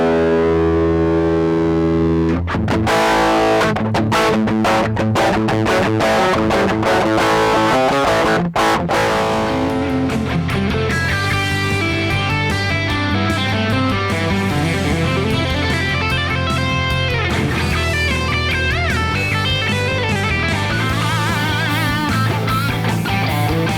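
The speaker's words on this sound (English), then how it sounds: "it's a pretty warm sounding distortion" Electric guitar played through a Fender Dual Pugilist distortion pedal, a warm, heavily driven tone with a big bottom end, loud and continuous, with chords and sustained notes and brief breaks near the start.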